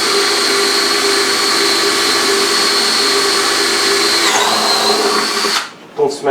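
A power drill bores into the body of a guitar, whining loudly and steadily for several seconds before it slows and cuts out near the end.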